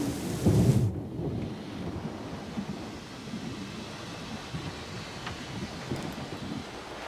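Thunderstorm in the video game Syberia: The World Before, a heavy thunder crack at the start easing into steady rain and wind rumble.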